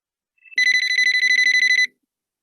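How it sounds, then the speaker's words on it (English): A debate timer alarm rings in a fast electronic trill, loud and steady for just over a second before cutting off, with faint background noise beneath. "The alarm will ringing"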